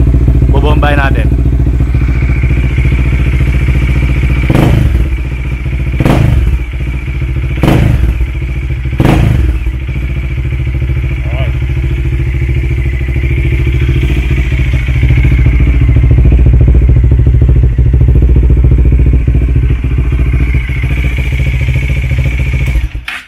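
A Bajaj Dominar 400 motorcycle running with its DB killer removed, a loud steady exhaust idle broken by several sharp throttle blips and revs, close up.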